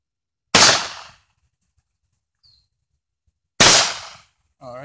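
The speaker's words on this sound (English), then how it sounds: "Now we're going to shoot it with 45 ACP from a Tommy gun." Two loud gunshots from a Tommy gun firing .45 ACP rounds at a steel helmet, widely spaced, each a sharp crack with a short decaying tail, followed by a brief voice.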